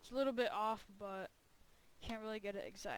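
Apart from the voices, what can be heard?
No distinct noise like a dog, phone or traffic.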